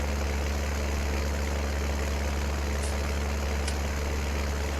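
Small tractor engine idling at a steady low, even drone, running continuously and fairly quiet outdoors during yard work, with no voices.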